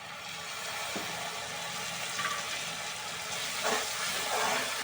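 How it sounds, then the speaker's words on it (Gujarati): Water hits a sizzling tomato and onion masala for egg lababdar, giving a loud steamy hiss that settles into steady frying and bubbling, with no talk. "તો અત્યારે આપણે ટામેટા ડુંગળીને આપણે સડી ગયું છે એટલે થોડુંક પાણી એડ કરી દઈશું અંદર."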